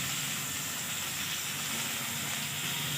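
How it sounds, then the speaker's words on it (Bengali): Onions fry in a pan with cardamom, cinnamon and cumin, giving a steady, even sizzling hiss that continues without a break and no voices. "এবার পেঁয়াজটা আমি লাল করে ভাজবো।"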